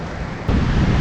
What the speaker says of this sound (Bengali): সামনে সমুদ্র আর সুন্দর হাওয়া দিচ্ছে